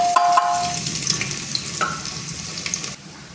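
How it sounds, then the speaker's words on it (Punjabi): Garlic frying in a pan during home cooking, a steady close sizzle with a few sharp crackles and stirring clinks across the short stretch, with no talking. "ਪਹਿਲਾਂ ਆਪਾਂ ਲਸਣ ਤਲਕਾਵਾਂਗੇ"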